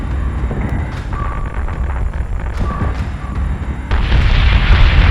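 Weapons fire in the Battlestar Galactica Deadlock space battle game booms out in a run of deep explosions under a droning hum, and the blasts grow heavier and denser near the end.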